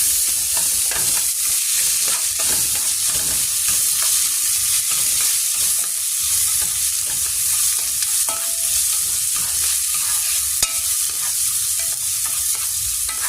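Rice browning in a hot pan on medium heat gives a steady, dense sizzle with scattered crackles and occasional stirring scrapes, loud and continuous with no voices.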